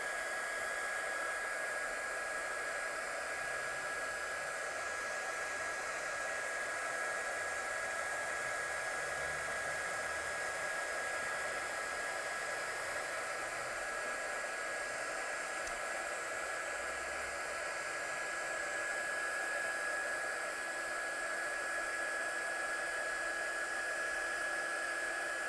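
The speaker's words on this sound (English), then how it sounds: "we're just going to heat set this one." A heat tool blows steadily on embossing powder spread over acetate for craft colouring, a continuous loud whirring hiss with a thin steady whine, unbroken throughout with no talking.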